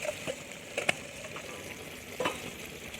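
Turmeric, biryani masala, coriander and cumin for mutton gosht, frying and stirred in a pan, giving a continuous soft sizzle with a few clinking taps of the spoon against the pan.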